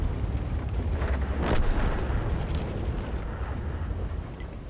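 A tank gun in World of Tanks fires a deep, booming blast that rolls out over a steady low rumble, with a brief sharp burst near the middle and a long fading tail afterward.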